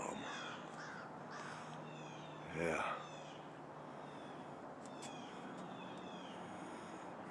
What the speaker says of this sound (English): Okay, we got crows